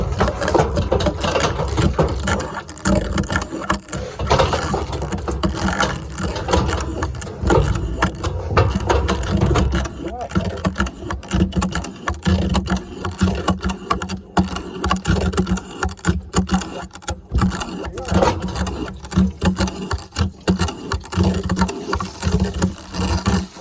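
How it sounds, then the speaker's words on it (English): A pump runs continuously, flushing an abscess on a bull: a loud, steady mechanical churning with a rhythmic ratcheting texture, close and unbroken throughout, with no speech. "Can you run that pump at the same time?"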